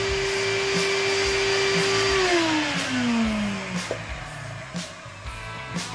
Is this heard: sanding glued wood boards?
yes